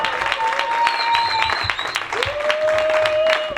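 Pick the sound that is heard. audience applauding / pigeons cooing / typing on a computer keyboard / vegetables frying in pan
audience applauding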